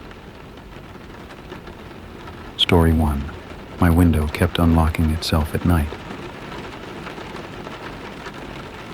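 Steady, even rain hiss runs through the whole stretch as a soft background bed, with a calm narrator's voice speaking over it partway through.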